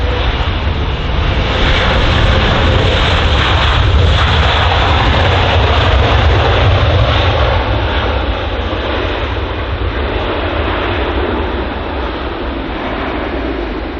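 American Airlines Boeing 777 at London Heathrow in changing weather, a broad steady jet roar from a distance, loud and sustained throughout before easing slightly toward the end, with no voices.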